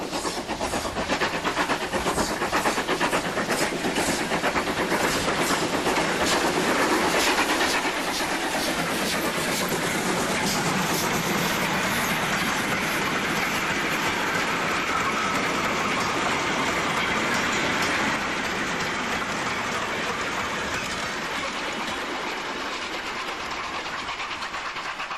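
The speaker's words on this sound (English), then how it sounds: "A rare sight these days is a steam-hauled goods train." A steam-hauled goods train led by GWR pannier tank locomotive 5764 rolls past steadily, a dense continuous roar of wagons with rhythmic clatter, louder at first and easing slightly toward the end.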